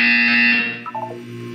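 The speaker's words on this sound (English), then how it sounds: "You will hear a buzzer." A harsh, loud electronic buzzer blares in a Portal game test chamber, holding steady for about half a second before trailing off into a short series of stepped descending tones.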